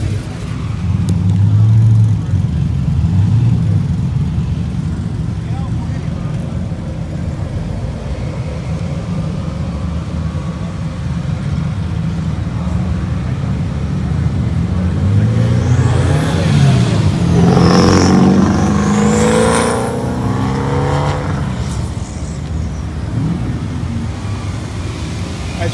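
Cars cruise past along the roadside at the Woodward Dream Cruise, heard from a bicycle: a steady roar of engines with a loud revving pass swelling around the middle, nearby vehicles rumbling throughout.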